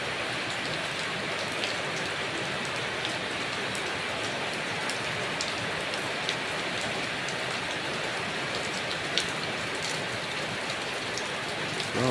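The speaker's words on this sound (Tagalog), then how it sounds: "So, ayan lumalakas na naman ang ulan." Heavy rain pours steadily, a dense, constant hiss of drops hitting surfaces, with occasional louder drips standing out.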